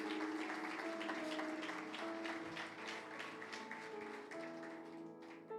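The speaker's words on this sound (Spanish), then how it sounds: "Dale un fuerte aplauso a Dios." A church congregation claps in a rhythmic, sustained round of applause, accompanied by sustained keyboard or organ tones, before the clapping thins out near the end.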